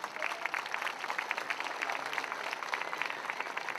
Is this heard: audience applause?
yes